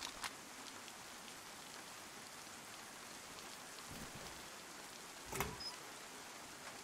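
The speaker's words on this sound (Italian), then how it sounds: "piove di brutto" Heavy rain in a video game, a constant soft hiss of falling rain with a couple of brief louder splashes, heard alone at moderate distance.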